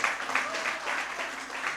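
An audience at a Hindi cultural gathering claps in a steady, moderately loud wash, with faint voices mixed in.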